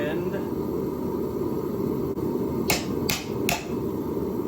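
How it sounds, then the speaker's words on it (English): A half-inch rebar holdfast dropping into an anvil's pritchel hole, three sharp metallic knocks near the end over a steady hum of background noise, with someone talking nearby. "Here's the 1/2 inch rebar. Drops in there"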